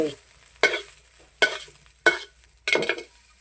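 Rice and egg stir-fried together in a pan, four distinct scraping tosses at roughly even intervals, each a sharp rasp fading out, close and otherwise quiet.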